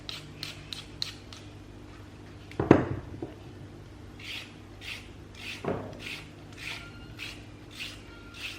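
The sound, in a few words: grating a carrot by hand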